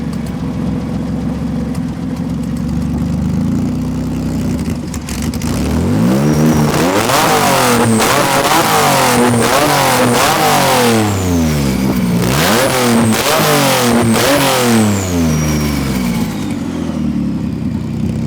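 A worn, blown VW engine idles close by, then revs repeatedly as the throttle is cracked open in quick blips that rise and fall for several seconds. The sound is loud throughout, with no talking.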